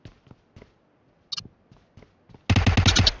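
Burst of rapid automatic gunfire in PUBG Mobile on the Miramar map, loud and close, erupting near the end after scattered faint taps and footsteps.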